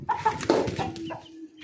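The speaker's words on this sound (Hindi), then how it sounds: "खरगोश की और मुर्गे की लड़ाई हो रही है।" A rooster fighting a rabbit gives a few close, loud clucks and squawks in quick bursts over the short clip, with no talking.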